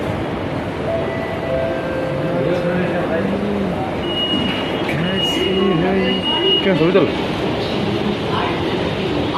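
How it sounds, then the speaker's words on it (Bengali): Inside an underground metro train in motion, a steady rumble of the ride and rail noise with occasional squeals and chimes, while people talk throughout. "দেখতেই পাচ্ছ ভিতরটা মেট্রো, মাটির তলে চলে আসলাম।"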